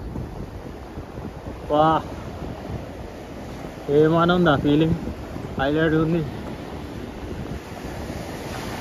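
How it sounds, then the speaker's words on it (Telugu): Big sea waves and cold wind at Altona Beach make a steady, rushing wash of surf and wind noise, with someone speaking briefly over it a few times. "సముద్రంలో అలలు చూడండి ఎట్లా వస్తున్నాయో"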